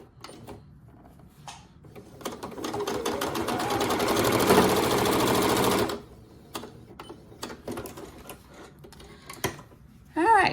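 A sewing machine stitches a straight seam across a reversible drawstring bag. A few quiet handling clicks come first, then a sustained, close, rapid mechanical hum for about four seconds, followed by more small fabric and machine noises.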